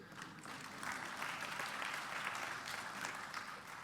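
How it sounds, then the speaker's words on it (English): Audience clapping at a political speech during a campaign launch for an African Union Commission bid, a steady wash of applause from a crowd lasting several seconds without a break. "I believe, Josepha, you'll clap for me on that one."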